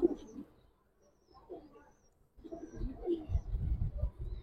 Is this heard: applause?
no